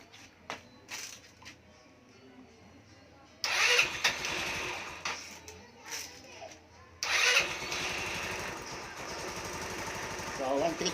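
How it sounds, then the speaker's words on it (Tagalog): A motorcycle with a fault of no lights and push-start trouble is cranked twice; each attempt brings a sudden burst of engine noise that runs on in a rough idle, with quiet background voices in between. "testing natin kung aandar yung motor kapag pino-start natin"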